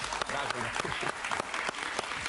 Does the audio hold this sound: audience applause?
yes